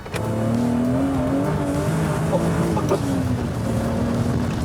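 A heavily modified high-power car, built toward 2000 hp, is driven hard with its engine roaring loud and close in a sustained, slightly wavering pitch, with no talking.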